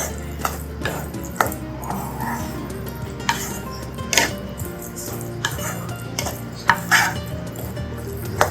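Egg keema, made from grated eggs, being stirred in a pan, with repeated scrapes and clinks of a utensil against the metal over a soft sizzle, close and without talk.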